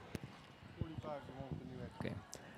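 A yearling horse walks into a sale ring at a show, hooves giving a few soft, uneven clops on the ground, with people talking over them throughout.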